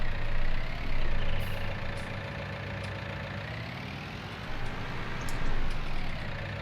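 A tractor engine idles in the Farming Simulator 19 video game, a steady low rumble with slight swells in loudness and no talking.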